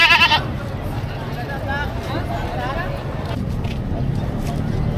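Goats bleat in wavering cries amid outdoor crowd chatter and background noise at a livestock trading market, with a loud burst at the start.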